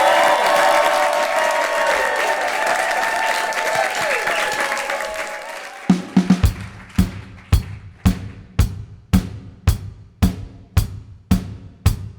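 A crowd applauding a rock band at a stage event, dense clapping and cheering that fades away and is followed by a row of slow, evenly spaced single claps.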